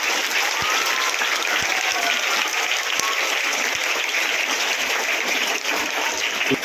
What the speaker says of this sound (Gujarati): એના માટે આપણે હોમગાર્ડ યુનિટ માટે એકવાર જોરદાર તાળીઓ વગાડીશું.